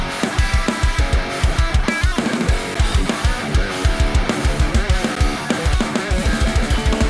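Heavily distorted electric guitar riff run through a Neural DSP amp plugin, loud, tight palm-muted chugs repeating in a fast rhythm with sustained chords ringing over them.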